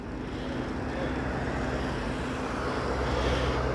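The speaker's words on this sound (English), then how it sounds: "Can you hear the sound of that bus engine" A bus engine rumbles past on a city street, a steady, moderately loud low drone of traffic with no speech over it.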